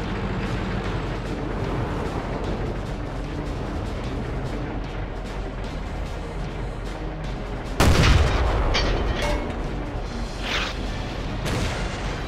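Tank cannon fire in World of Tanks during a historic battle event set at Cologne: a loud, close boom at about eight seconds cuts through a steady background of distant battle rumble and scattered shots, with its echo slowly fading.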